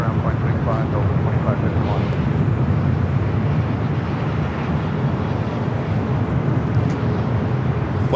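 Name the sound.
UPS Boeing 767 taking off at LAX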